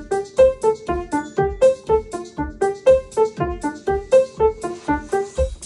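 A programmed drum groove in five with kick and subdivided hi-hat plays alone in a steady, evenly spaced pattern of crisp, moderately loud hits.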